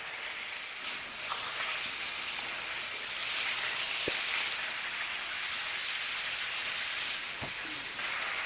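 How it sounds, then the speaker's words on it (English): Burgers cook on low heat in a pan, giving a steady, close, even sizzle like light rain, with a few faint pops and clicks and no talking. "A little something we can do to try to get a little extra fat on top of these burgers while they're cooking."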